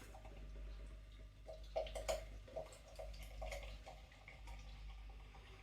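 Bermondsey Pale, a pale ale from Anspach & Hobday, is poured into a glass, a quiet trickle and gurgle with a few brighter splashes over a low steady hum.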